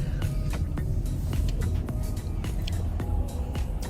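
Low steady road rumble from inside a moving car, a continuous muffled engine and tire drone with faint ticks and bumps, no voices.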